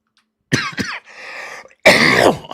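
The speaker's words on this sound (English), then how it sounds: "I am so sorry about me coughing." Coughing fits from a man, with a harsh burst, a raspy throat-clearing stretch, then another loud hacking cough, close and loud with no other talk.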